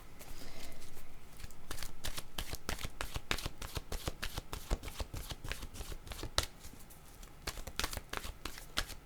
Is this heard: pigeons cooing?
no